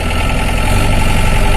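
A modified Mahindra MM540 Marshal jeep's old engine runs loud and close in first gear, with a steady rough drone and a knocking vibration throughout.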